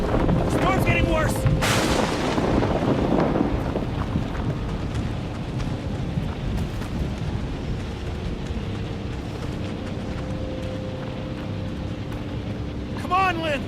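In the horror game Outlast 2, a thunderstorm sends out heavy, rumbling thunder crashes and a steady roar of rain and wind. A loud crack comes early and the storm fills the background after it, with voices speaking over it.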